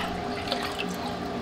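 Yeast crumbled by hand into water for Neapolitan pizza dough gives a brief, close, wet splashing and trickling with small drips, heard alone without talk.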